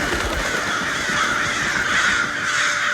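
Crows caw repeatedly over a steady outdoor background near an old church in The Walking Dead, the calls close and fairly loud, with no talking.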